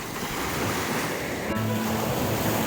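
Black Sea waves washing onto the shore at Odesa, a continuous loud wash of surf with wind buffeting the microphone and a faint low tone in the background.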